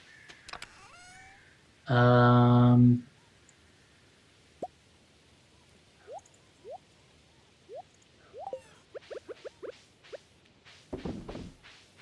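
In the farming game Stardew Valley, a loud, drawn-out cat meow is followed by scattered soft plops and drips, and a short meow-like cry comes near the end.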